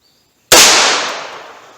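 A single Hornady Critical Defense 110-grain .38 Special +P round fired through a 4-inch barrel: one sharp, loud report after a moment of silence, followed by a long, fading echo with no voices.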